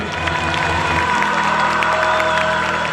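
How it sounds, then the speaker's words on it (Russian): A packed hall audience at a 2014 student faculty battle event applauds, cheers and whoops loudly and continuously, with children's shouts mixed into the steady crowd roar. "Ваши аплодисменты!"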